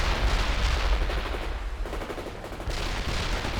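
Sustained gunfire and machine-gun bursts from a World in Conflict battle rage loudly and continuously, dense overlapping shots with a brief dip midway before the barrage picks up again.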